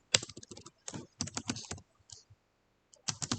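Rapid bursts of clicky keystrokes on a computer keyboard, typed in quick clusters with a short pause midway, close and fairly clear with no talking.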